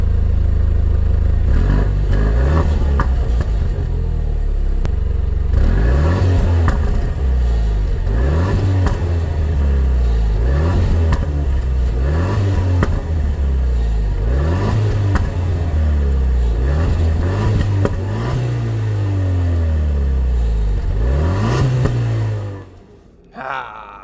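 A Jaguar F-Type being restored after a wreck revs hard in sports mode, its engine note climbing and falling in about a dozen loud, close bursts before cutting off abruptly at the end.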